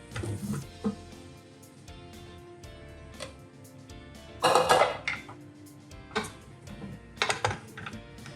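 Clanks and scrapes of a spoon stirring cauliflower and potato curry with onions in a cooking pot, a few loud metallic knocks spaced irregularly with quieter rattling between, close up and with no talk.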